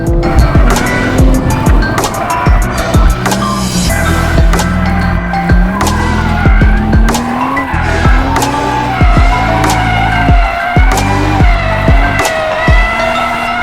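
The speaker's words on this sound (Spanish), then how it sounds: "la derrapada por potencia a la salida de la curva es fácil" A BMW 2 Series Coupe xDrive power-drifts out of a corner, its loud engine note rising and falling with throttle while the tires squeal and skid almost the whole time, close and without a break.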